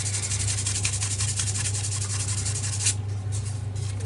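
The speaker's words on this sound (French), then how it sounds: "Donc il faut poncer." Steady, even sanding over Citroën 15 CV bodywork to remove fine scratches, a continuous close rasping with a constant low hum beneath it and no talk.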